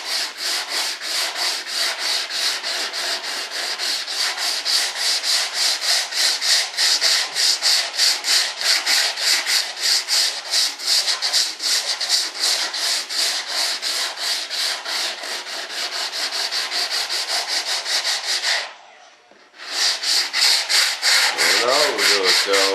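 Steady back-and-forth sanding on a part for a scratch-built RC jet model of a B-1 bomber, loud and close in a fast even rhythm, breaking off briefly near the end before resuming.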